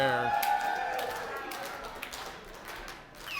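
A Moncton wrestling crowd at an IHW event claps and cheers, a dense steady patter of applause with scattered shouts, heard beneath a commentator's voice throughout.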